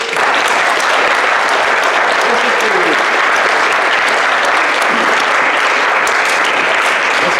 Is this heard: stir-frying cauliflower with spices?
no